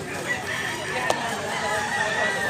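A Dr. Blues bloodline gamefowl rooster in Mantalongon, Cebu, gives a sustained crow that carries through the whole moment at close range, with a brief sharp click near the middle.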